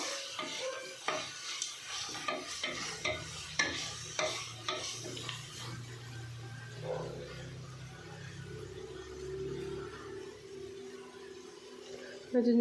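Ginger garlic paste frying and being stirred in a pan over low flame, with scraping stirs and a soft sizzle in the first half, then quieter frying with faint background voices.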